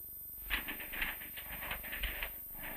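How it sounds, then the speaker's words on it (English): Faint, rapid rhythmic clatter from a 1970s office typewriter typing bills with chain feeding, heard as a close run of key strikes over a soft hiss with no voices. "Chain feeding brings one bill into the typewriter while another is removed."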